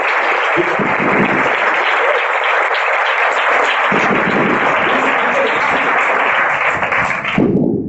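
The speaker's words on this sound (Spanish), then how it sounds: "¿Por qué no le da un aplauso al rey?" A church congregation claps steadily in a loud, dense wash of applause that holds for several seconds before tapering off at the end.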